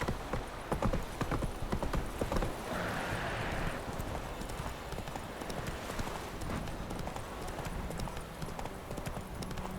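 Hooves of Roach, the horse in the video game The Witcher 3, clip-clop in a steady rapid rhythm, loud and close, with brief snorting and a quiet voice at moments.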